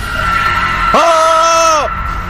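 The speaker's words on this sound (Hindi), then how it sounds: "गौरी की चीख पूरे जंगल में गूंजने लगी" A woman lets out one sharp, rising scream lasting under a second, loud and close over a droning background score in a Hindi horror audio drama set in a forest.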